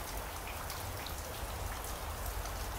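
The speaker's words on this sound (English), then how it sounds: "It's a light tropical shower now." Light tropical rain falling steadily in a front and side yard in Trinidad, a soft continuous patter of drops with a low rumble underneath, no voices.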